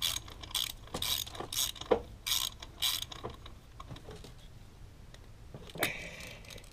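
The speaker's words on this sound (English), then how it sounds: "set my elbow to the proper torque" A torque wrench tightening an elbow fitting under the hood of a Shelby GT500, with a close run of quick ratcheting clicks followed by quieter handling and one later burst.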